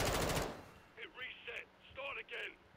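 A brief, loud burst of rapid automatic gunfire in Call of Duty opens the clip, then stops, followed by a person talking.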